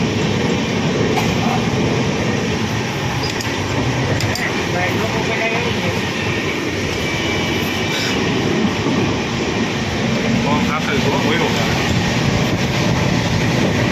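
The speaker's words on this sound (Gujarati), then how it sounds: "આપણી ટ્રેન છે ને અત્યારે આ સ્પીડમાં જાય છે" Continuous loud rumble and rattle inside a fast-moving train carriage at night, with faint clicks of wheels on track throughout.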